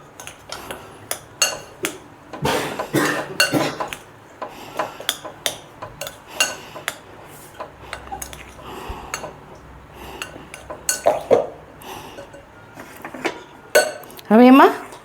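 A spoon clinks and scrapes against a bowl as ginger-chili-garlic paste is mixed into a mashed chana kebab mixture, with irregular close taps and knocks throughout and someone speaking over it.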